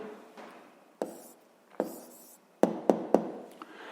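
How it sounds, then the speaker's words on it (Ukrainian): Pen or chalk writing out an answer during a 6th-grade math word problem, heard as soft scratchy strokes broken by several sharp taps near the end, close and alone without talk. "Ну що ж, записуємо відповідь."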